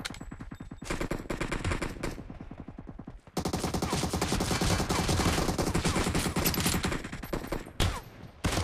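Sustained automatic gunfire in Battlegrounds Mobile India team deathmatch, loud rapid bursts rattling almost continuously with a brief pause near three seconds.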